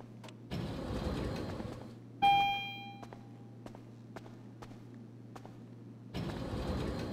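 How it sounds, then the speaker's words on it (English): A personal car in GTA Online arriving at a CEO office: a steady low engine idle under a brief bright chime and mechanical clicks, with louder engine surges at the start and end. "They're bringing your personal vehicle around right now."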